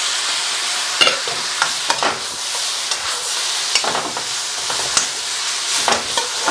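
Beef stir-frying with onions and vegetables in a hot pan, a loud continuous sizzle punctuated by frequent rhythmic utensil scrapes and tosses.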